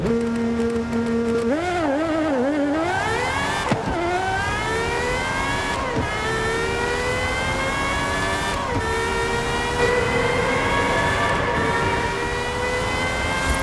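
High-revving V12 Cosworth engine in a fan car within Forza Horizon 5 screams loudly, pitch climbing and dipping through repeated rev sweeps and gear changes, a sustained racing whine with no talking.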